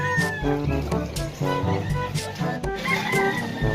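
Chickens and caged birds, including pigeons, call at a busy animal market in Angeles, Pampanga, with overlapping clucks, squawks and crowing-like cries mixed with crowd noise.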